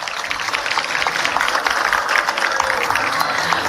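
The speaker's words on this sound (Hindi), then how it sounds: "जब पुरस्कार मिलता है तो तालियां बजनी चाहिए" An audience at an award ceremony held at a trade fair in Delhi claps steadily, a dense continuous patter of many hands throughout, loud and fairly near.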